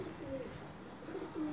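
A pigeon coos softly a couple of times against a faint, steady outdoor background.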